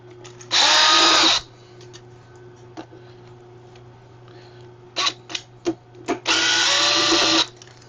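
A power drill removing screws from a Razor E90 scooter whirs in two loud bursts of about a second each, with small clicks and taps of screws being handled in between.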